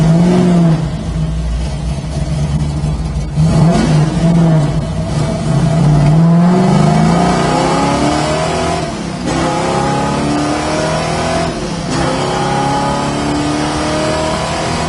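A 1969 Chevrolet Camaro Yenko with an L72 big-block V8 revs up loudly several times, rising and falling in pitch over a deep rumbling idle, close by with no talking.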